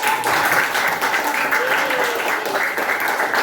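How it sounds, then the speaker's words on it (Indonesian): Children in a classroom clap together on the teacher's cue, a dense, loud burst of clapping lasting a few seconds with young voices calling out over it. "Yuk, tepuk tangan untuk kita."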